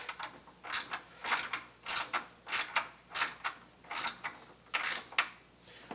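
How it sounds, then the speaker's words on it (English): A ratchet socket wrench tightens a bolt on a 2008 Dodge Charger, giving about a dozen rhythmic bursts of rapid clicking pawl, each stroke quick and close with brief pauses between. "Now I'm going to use my socket."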